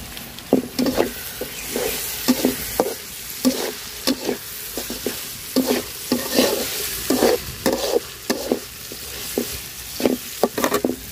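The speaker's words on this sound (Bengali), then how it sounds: "এখন শুটকি দিয়ে দিব, শুটকিটা ভাজা নিব একটু" Dried fish sizzles and fries in a pan after potatoes, while a utensil stirs and scrapes in repeated sharp strokes. Close and busy, with no talking.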